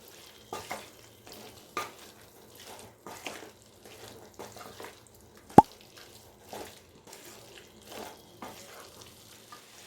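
Ground masala being stirred into chicken sukka in a pan, with soft scraping strokes at an irregular rhythm, a low sizzle underneath and one sharp clack near the middle.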